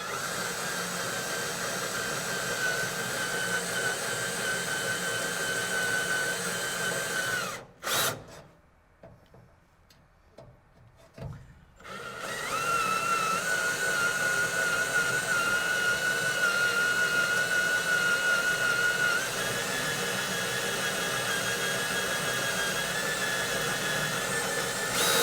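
A hole cutter boring through the sheet-metal rear cab floor of a 1967 Kaiser Jeep M715, a steady high whine and grind that breaks off into near silence for a few seconds, then resumes just as loud.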